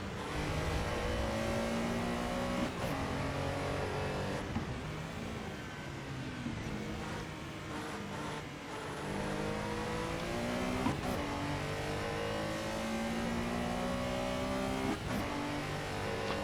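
Race cars at full throttle at Snetterton circuit in a classics race, a Corvette among them, engines roaring and shifting through gears continuously, loud and close from inside the car.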